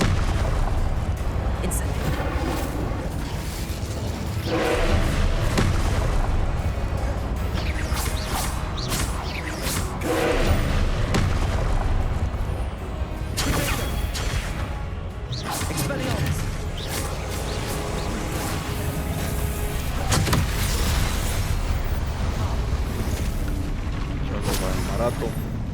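Blasting spell explosions from Confringo in Hogwarts Legacy, a run of heavy booms and crashes layered over dense game sound and music, with bursts recurring every few seconds.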